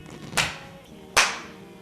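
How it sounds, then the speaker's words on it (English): Two sharp hand claps ring out about a second apart in a quiet room as filming starts, each crisp and close with a short decay. "Let's have a clap."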